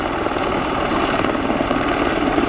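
RAF AH-64E Apache Guardian attack helicopter in a flying display at the Royal International Air Tattoo, its rotor and engine roar loud, dense and continuous, with no talk over it.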